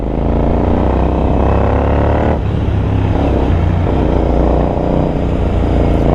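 A GT Continental motorcycle engine runs steadily at close range, giving a loud, constant mechanical drone that lasts throughout. A slight shift in tone comes partway through.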